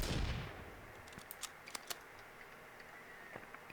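A single gunshot fires in Sons of the Forest on hard survival mode, a loud close burst that decays quickly, followed by faint sharp clicks and ticks.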